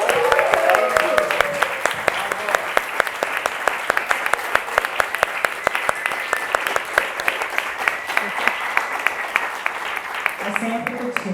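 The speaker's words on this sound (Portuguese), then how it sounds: "pedir, gente, uma salva de palmas para a Juliana, que é uma historiadora do teatro." Audience applause at a women-in-theatre-direction seminar panel, steady dense clapping from a seated crowd sustained for about ten seconds before fading, with a voice starting to speak at the end.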